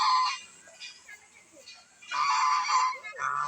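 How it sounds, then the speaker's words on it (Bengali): Domestic geese honking beside a fish pond, loud nasal calls close by in bursts at the start and again later, with quieter gaps between. "দেশি রাজহাঁস অনেক ভালো লাগে"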